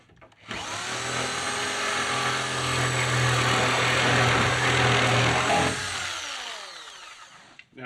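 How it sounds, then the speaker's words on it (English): A reciprocating saw fitted with a wood blade cuts through wall framing for a DIY tiny house, a loud steady buzzing rasp lasting about five seconds before winding down. "The other way I would recommend would be with the sawzall and take a bit."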